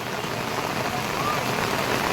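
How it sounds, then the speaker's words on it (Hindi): Heavy rain pours steadily at the Ganga ghats in Haridwar, a dense, continuous hiss of drops hitting surfaces, loud and close throughout with no break. "के घाटों पर बिल्कुल घनघोर बारिश हो रही है।"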